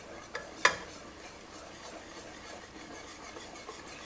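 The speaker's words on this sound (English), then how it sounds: "So I'm just stirring in my sugar." Sugar stirred into yuzu jelly in a pot, a faint soft scraping and rubbing with two small clinks near the start, then quiet steady stirring at low level, with no voices.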